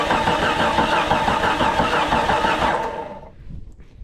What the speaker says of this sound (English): That starter does not sound like it's the healthiest starter on the market.